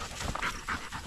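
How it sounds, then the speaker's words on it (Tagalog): Bingo the dog panting in short rhythmic breaths, several quick puffs close by with a faint whimpery edge, no talk. "Hinihingal na si Bingo."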